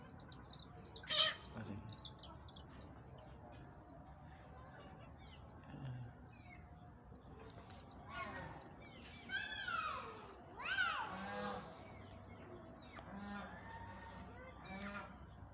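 A hen with roughly three-week-old chicks on a poultry farm: faint chirps and clucks come and go over a soft background, with a few louder squawks and voices talking quietly nearby.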